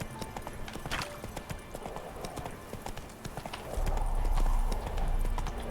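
Roach the horse trots in the Witcher 3 video game, with steady clip-clop hoofbeats at a moderate level and a deeper rumble joining partway through.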